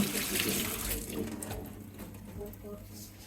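Water runs from a tap over chana dal in a kitchen, a steady splashing rush that is strongest at the start and then thins out, with a voice talking over it.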